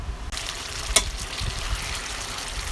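Soy honey chicken simmers in a covered pan, giving a steady low sizzle and bubbling with a brief clink near the start, with no voices.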